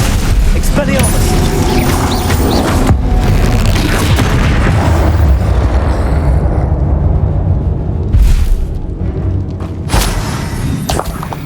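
Bombarda and Confringo spell explosions in Hogwarts Legacy combat, a loud, dense run of booming blasts and thudding impacts with mechanical clatter, fading into quieter bursts near the end.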